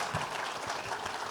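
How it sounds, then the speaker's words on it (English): An audience applauds a cricket discussion panel, a steady, dense wash of clapping heard from within the room, moderately loud and continuous. "Please give them a big round of applause."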